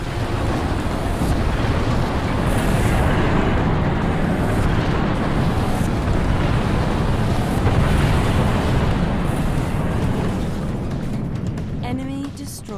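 Orbital weapon strike from the Spirit of Fire in the Halo Wars video game: a loud, sustained roaring rumble like a continuous blast that fills the whole clip, with faint voices underneath.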